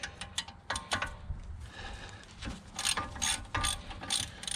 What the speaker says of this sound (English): get in there with our ratchet